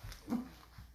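Rescue dog giving a short whimper and soft yip, a few brief close vocal sounds within a second over quiet room noise.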